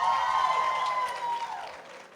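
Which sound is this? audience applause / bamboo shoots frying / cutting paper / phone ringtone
audience applause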